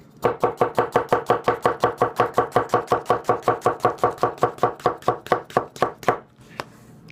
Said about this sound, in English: we get you nice little thin slices of tomato and such